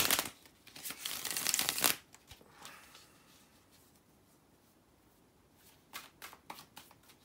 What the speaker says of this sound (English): let me shuffle the cards and see what you got